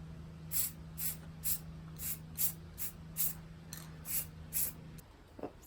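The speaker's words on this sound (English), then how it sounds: "That's what happens when you spray too long." Short, even bursts from a spray paint can coating a chandelier, about ten sharp hissing puffs in a steady rhythm, close and clear over a low background hum, ending with a faint rustle.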